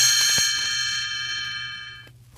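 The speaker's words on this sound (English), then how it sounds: "when Tinker Bell rings her little bells like this" A small bell chimes once up close, its bright, clear metallic tone slowly fading away over a couple of seconds.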